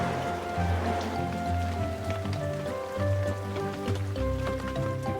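Steady rain falls outdoors on a bulldozer, a tractor and a combine harvester in a children's cartoon, a dense continuous patter heard alone under soft musical tones.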